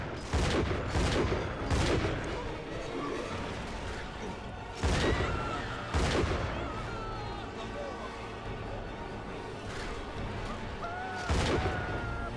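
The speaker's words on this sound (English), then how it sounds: "Let's bust out some shotgun." Shotgun blasts in the video game BioShock 2, several loud booming shots at irregular intervals, each with a sharp crack and a decaying tail, over game ambience and effects.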